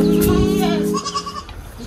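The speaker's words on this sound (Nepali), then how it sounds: "अनि यहाँ बाख्रा हेर्न सक्नुहुन्छ" A goat bleats loudly and close by, one long wavering call followed by a shorter broken bleat, heard on a rural trip to Suwarnapur.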